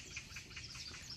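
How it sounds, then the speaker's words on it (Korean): Small birds chirping in a city park on a summer evening in Jeju, several scattered tweets repeating continuously over steady low ambient rumble, with no talk. "예쁜 새소리도 잘 들리고요."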